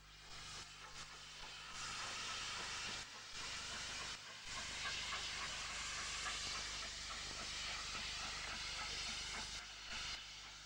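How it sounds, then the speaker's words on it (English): British Railways Britannia Pacific steam locomotive William Shakespeare drawing a special train into Leeds Central, loud sustained steam hiss and exhaust roar continuing for several seconds with brief dips, heard close by without speech. "Britannia Pacific William Shakespeare draws this special into Leeds"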